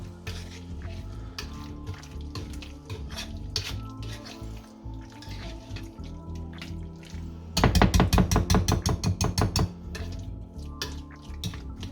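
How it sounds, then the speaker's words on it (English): Chopped boiled eggs are stirred into homemade mayonnaise in a bowl: soft, wet scraping and clicking utensil strokes, growing into a brief burst of rapid, louder rhythmic stirring taps near the end, close and without voices. "Here is the bowl with the eggs. We're gonna mix it nice with the mayo."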